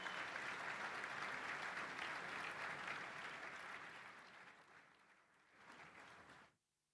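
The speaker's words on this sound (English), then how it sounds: "We're sure we can count on your warmest applause." An audience at the Lamborghini Urus world premiere gives dense, sustained clapping that slowly fades, swells briefly in a second burst and then cuts off into silence.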